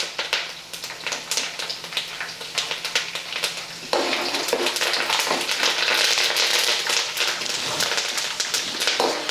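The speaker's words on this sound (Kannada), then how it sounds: "ಇದು ಕರಿಬೇವು ಫುಲ್ ಡ್ರೈ ಆಗೋವರೆಗೆ ನೀವು ಫ್ರೈ ಮಾಡ್ಕೋಬೇಕಾಗ್ತದೆ" Curry leaves crackle and sizzle in hot oil for avalakki chivda, a steady close frying hiss that jumps louder partway through as the leaves hit the pan, with dense popping spatter throughout.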